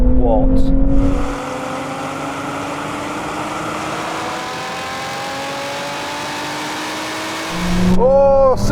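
Sports cars (Nissan Z, Porsche GT4 RS, Toyota Supra, Lotus Emira) in a drag race, with a supercharger, accelerating: a loud engine note climbs steadily through the gears, with sharper bursts of noise at the start and end.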